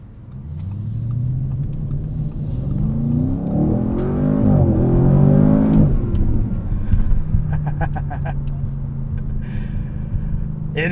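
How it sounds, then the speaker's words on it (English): A 2024 Audi RS7's engine rumbles low and climbs as it accelerates, the exhaust note swelling to a loud peak, then settling into a deep idle burble. "when you open up the exhaust, you get a very satisfying rumble"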